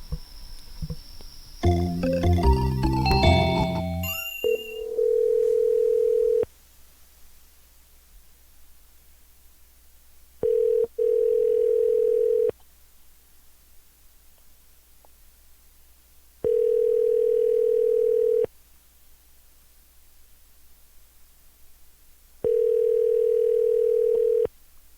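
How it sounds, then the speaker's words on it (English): A phone call placed through a soundboard: a short jumble of tones, then four evenly spaced ringback bursts, each about two seconds long with quiet gaps between them. The sound is clear and steady, with no talking. "Let's just call this guy, and Mike, use the soundboard."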